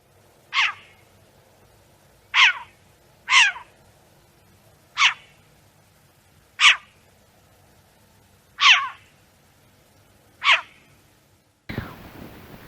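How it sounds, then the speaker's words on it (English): Short-eared owl calls sound in grassland: seven sharp, barking calls spaced about a second or two apart, clear and moderately close over a quiet background, ending with a brief burst of noise. "This is what short-eared owls sound like."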